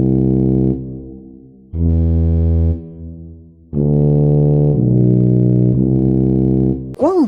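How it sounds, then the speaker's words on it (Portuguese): A tuba plays a handful of deep, brassy, long sustained low notes with short pauses between them, ending on a quick wavering tone. "E o som da tuba"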